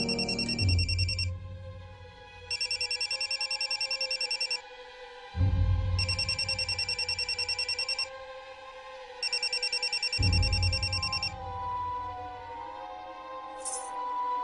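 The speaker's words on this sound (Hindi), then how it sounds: "तुमने फोन क्यों किया मन्नू?" A telephone rings in four loud, evenly spaced bursts with short silences between them, each burst opening with a soft thump, indoors in a TV drama scene.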